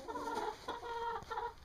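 A flock of about eighteen backyard chickens clucks and murmurs steadily in their coop, close and continuous, with no talking.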